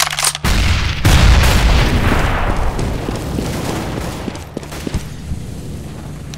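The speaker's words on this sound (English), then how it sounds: "Grenade!" A grenade going off in the video game Counter-Strike: Global Offensive: one heavy, loud boom that rumbles and slowly decays over several seconds, with faint clicks and game noise underneath.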